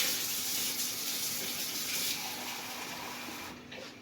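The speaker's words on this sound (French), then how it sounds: "On va les mettre trempés dans l'eau chaude pendant qu'on colore notre viande." Hot water pours steadily from a tap or kettle over dried raisins set to soak, a continuous running splash that stays fairly even and close, with no talk over it.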